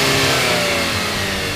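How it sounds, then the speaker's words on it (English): A car engine revs hard and loud at close range, a steady roaring surge that holds for the whole moment, with no voices over it. "We did, like, revving of the engines."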